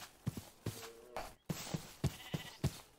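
Sheep in RLCraft, a Minecraft modpack, bleat in short, repeated calls over several seconds, fairly close and moderately loud, with soft game sounds between them and no speech.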